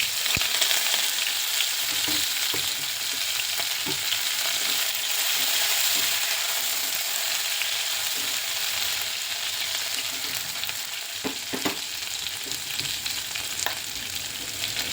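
Cumin, chili, ginger and curry leaves fry in hot oil with a continuous, fairly quiet sizzle, broken by occasional sharp crackles and pops.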